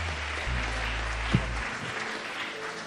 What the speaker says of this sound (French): il y a un applaudissement pour nous, s'il vous plaît.